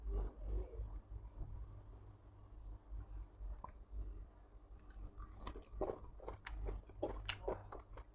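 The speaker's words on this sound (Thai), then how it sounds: "กินซีฟู้ดเฮ็ดเองครับ" Close, quiet chewing and crunchy biting while eating braised pork leg with soft meat and crisp cartilage, an irregular run of wet crunches and mouth clicks growing busier toward the end.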